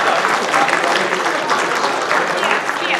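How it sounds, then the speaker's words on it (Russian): Audience applause at a motivational training session, participants clapping for one another in a hall, dense and lively with slight swells, no speech heard. "Поблагодарите друг друга аплодисментами, пожалуйста."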